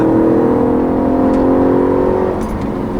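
A 2013 Audi RS5 engine holds a loud, steady drone heard from inside the car, its pitch barely shifting over a few seconds and easing slightly near the end.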